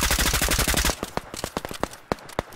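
Rapid video game gunfire, a dense burst of automatic shots for about a second followed by scattered single shots and short volleys, loud and close with no talking.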